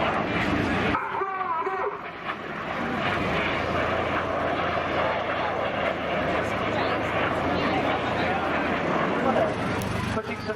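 Red Arrows jets fly in display formation with a loud, sustained roar that swells and holds for several seconds, heard outdoors with faint crowd noise and a voice talking over it.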